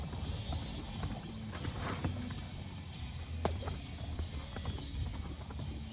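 A horse's hooves clip-clop in a round pen during a training session, with soft, steady walking steps heard fairly close over a low outdoor background.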